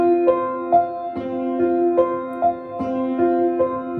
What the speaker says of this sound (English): Notice I have the sustain pedal down the whole time.